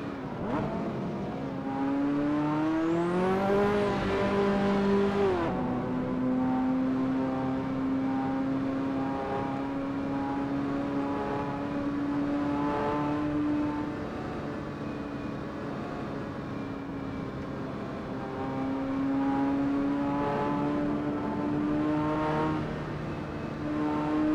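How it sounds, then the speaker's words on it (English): Racing video game car running with the Custom Shaders Patch mod: a steady engine drone with a brief rising rev early on, then an even cruising hum that holds and shifts slightly in pitch, no talk. "I'll drive nice and slow and see if anyone will overtake me."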